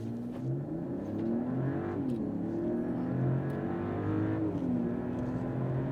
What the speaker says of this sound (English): let's check the acceleration on this thing